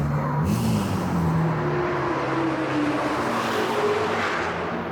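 A loud race car engine at a hypercar trackday drones close by, with the pitch rising and falling across shifting gears as a cup car passes, continuous and with no talking.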